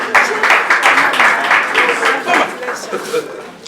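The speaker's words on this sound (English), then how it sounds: "can we clap up Omenma?" An audience claps in a quick, regular rhythm for a man being honored at a gathering, while a loud voice talks over the clapping throughout.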